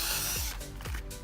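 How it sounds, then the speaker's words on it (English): A power drill with a 7/64 bit bores holes outdoors over grass, heard as a brief close whir with two quick falling bursts of motor pitch. "I just drilled these different holes"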